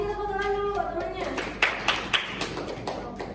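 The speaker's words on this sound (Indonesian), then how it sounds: "Kasih tepuk tangan dulu temannya." Students in a classroom clap for a classmate, a short burst of several sharp hand claps over steady room noise.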